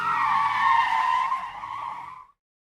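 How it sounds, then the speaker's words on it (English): Car tires screech loudly as the car rushes past, a sustained skidding squeal that fades out and cuts to silence near the end. "Tires screeched before the car rushed right by, leaving a trail of smoke and black marks on the road behind."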